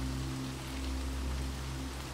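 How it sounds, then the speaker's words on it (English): Steady rain falls on the many windowpanes of a manor on a stormy night, a constant soft wash without pause that stays at an even level throughout. "You peer out the windows as rain cascades down the dozens of panes."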